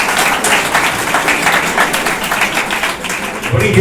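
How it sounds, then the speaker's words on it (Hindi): Steady applause from the audience at an entrepreneurship club meeting, a dense wash of clapping that runs the full length, with some background voices. "ताली बजाओ, ताली।"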